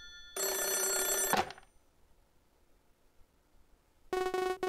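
An old-style telephone bell rings loudly in a video game, with a sustained burst of about a second, a quiet gap, then a second ring starting near the end.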